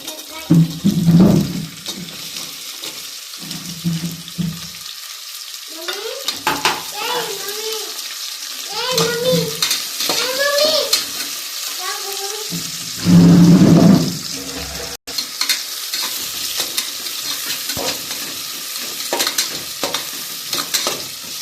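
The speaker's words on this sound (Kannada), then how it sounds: "ಸ್ವಲ್ಪ ಬ್ರೌನ್ ಕಲರ್ ಆಗೋ ಥರ ಚೆನ್ನಾಗಿ ಫ್ರೈ ಮಾಡ್ಕೊಳ್ಳಿ" Onions frying in a pan for tomato bath, stirred with a spoon that scrapes and clatters in bursts over a steady sizzle, with a voice talking between the strokes.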